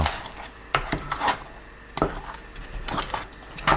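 Sweet potato starch mixture thickens in a pot while being stirred over low heat. Irregular wooden knocks and scraping clatters of the utensil against the pot come through close and distinct, with no voices.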